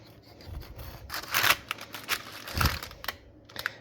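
A knife cuts a baked protein pancake slab into nine bars on a board, giving several separate soft cutting and tapping strokes with short pauses between them and no talking.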